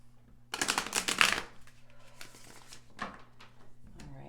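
Tarot cards are shuffled by hand in a quiet room, a dense riffling burst followed by softer, scattered card slaps and shuffles at close range.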